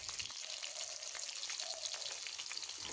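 Onion, green chillies and panch phoron fry in oil with a little turmeric, a dense continuous crackling sizzle heard close and alone at a low level.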